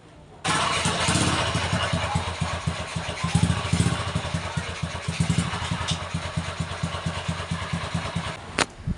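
A motorcycle engine kicks into life abruptly and settles into a close, steady idle with a rhythmic pulsing chug that continues to the end, briefly swelling as it is revved.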